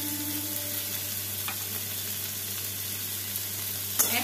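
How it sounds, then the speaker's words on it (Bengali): Spices sizzle steadily in a pan with kabuli and desi chickpeas, salt, turmeric, green chilli paste and cumin, with faint stirring and a sharp clink near the end. "ভালো করে আমি মশলাটাকে ভেজে নেব।"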